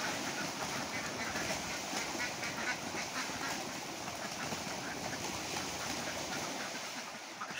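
A large flock of farm ducks quack in a dense, continuous chorus as they are let out toward a fenced pond, many birds overlapping at moderate distance, with faint speech at times.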